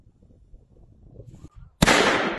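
A homemade firework tube loaded with granular gunpowder flashes and burns, giving a sudden loud roaring whoosh that bursts in near the end and sustains to the close, preceded by faint low rumbling and handling noise.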